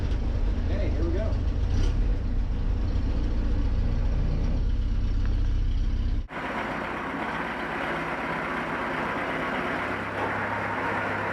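A Willys Jeep engine runs with a deep, steady rumble, then the sound shifts abruptly partway through to a brighter, noisier engine and road drone, as if heard while driving.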